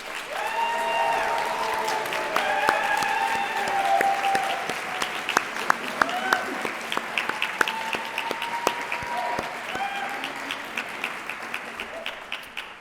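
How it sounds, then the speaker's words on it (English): Graduates at a college graduation convocation ceremony give their friends and family a sustained round of applause, a dense wash of crowd clapping with a few sharp nearby claps, while voices call out briefly over it. "Graduates, can you give them a loud round of applause?"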